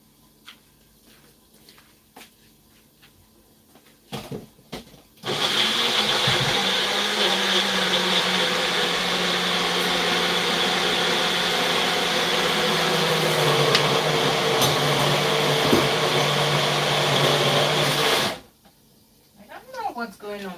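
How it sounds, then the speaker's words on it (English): A kitchen blender grinds beans in a loud, steady whir for about thirteen seconds, its pitch shifting slightly as the load changes, starting and stopping abruptly between quieter moments of talk. "What's going on with this blender, but it's scaring me"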